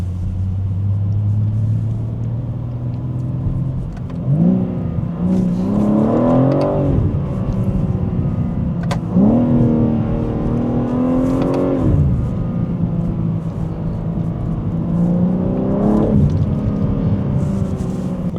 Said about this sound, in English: Whipping Toronto in the M3, baby.